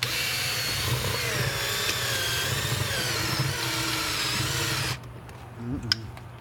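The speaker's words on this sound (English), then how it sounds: "Bigger drill bit" A cordless drill drilling out rivets on a Gallagher MPE fence charger whines steadily at close range for about five seconds, then cuts off, leaving a few faint clicks and handling noises.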